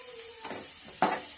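Onions sizzling in a pan on their way to golden brown, a quiet frying hiss with one faint stir and then a sharper scrape near the end, no voices.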